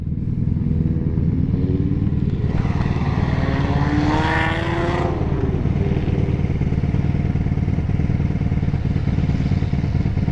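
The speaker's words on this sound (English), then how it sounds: "his exhaust is so loud" A motorcycle with a loud exhaust roars steadily and close by, swelling to a peak as it passes around the middle before fading back under a constant engine drone.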